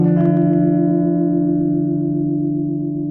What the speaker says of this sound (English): I get these crazy minor chords that sound like this